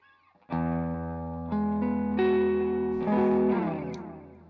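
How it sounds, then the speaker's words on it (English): Electric guitar chords through compressor and delay with reverb added, each strum ringing out into a lush washed tail, loud and steady with no voices. "And we'll add the reverb."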